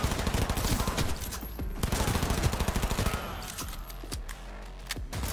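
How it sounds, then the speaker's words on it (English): Rapid automatic SMG or assault rifle fire in Cyberpunk 2077 during a heist mission, a dense rattling stream of close, loud shots that eases briefly before more bursts. "This an SMG or assault rifle?"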